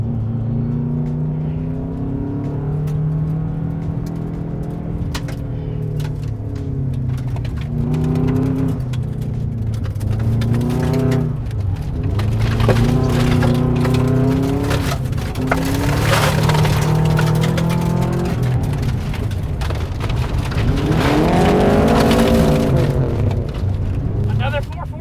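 A car on a timed run using trail braking through turns has an engine that drones loudly and close, its pitch repeatedly rising under acceleration and dropping under braking, with rattling and road noise throughout.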